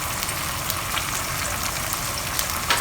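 Sauce sizzling steadily in a wok for Chinese broccoli, a continuous close crackling hiss with faint scraping and small pops, no voices.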